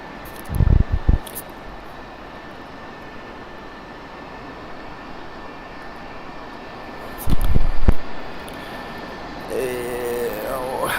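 Mirage fighter jets taxiing on the ground in the DCS flight simulator: a steady, whining engine hum holds throughout, with a couple of brief loud thumps and a rising tonal whine near the end.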